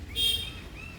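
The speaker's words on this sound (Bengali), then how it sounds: "আম গাছে পাখি ডাকছে" A bird in a mango tree gives a single brief, thin chirp, faint and slightly distant against a quiet background.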